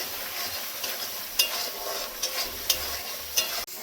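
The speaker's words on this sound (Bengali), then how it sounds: "লঙ্কা গুঁড়ো, একটু চিনি, কিছুক্ষণ ভেজে নেব।" Chili powder and a little sugar fry in oil with turmeric, a close hissing sizzle broken by repeated scraping strokes of a spoon against the pan and a few sharp metallic clicks.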